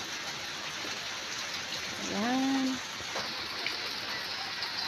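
Steady rain hisses throughout, a constant wash of patter, with a brief voice speaking over it midway.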